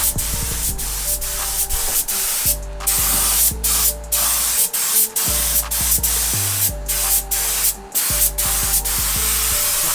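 Spray gun laying pearl paint onto a racecar interior, a steady broad hiss broken by short bursts and pauses as the trigger is pulled and released, with a low compressor hum underneath.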